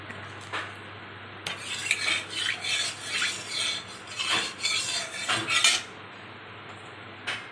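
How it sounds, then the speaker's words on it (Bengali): Dried lentil dumplings (bori) crushed for a home-style green banana curry, heard as a run of scraping, knocking crunches of utensil on dish. The sounds are moderate and close, with no talk. "আর এই যে কটা বড়ি নিয়েছি, বড়ি কটা ছেঁচে এর মধ্যে দিয়ে দেব"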